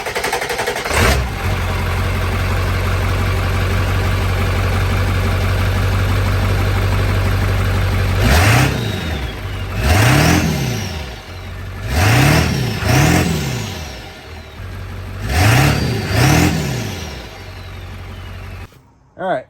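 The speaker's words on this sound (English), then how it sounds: "now let's start the truck, hear how it sounds with the downpipe" A truck engine with a new 4-inch turbo-back exhaust downpipe starts and idles with a deep rumble, then revs sharply several times, each rev rising and falling, loud and close.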